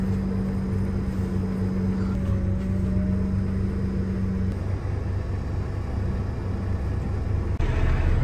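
A John Deere tractor carrying a shipping container drives along with a steady, loud low engine rumble and droning hum that runs continuously from start to finish.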